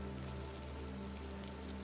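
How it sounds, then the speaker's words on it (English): Steady rain falls outside on a night in Marrakech, a soft, even hiss over a low, constant hum, with no voices. "and the rain outside"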